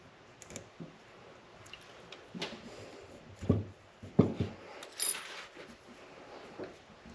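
Tape being cut off during a fork seal replacement on a 2018 Honda Grom, heard as sparse small snips, clicks and scrapes close up in a quiet room.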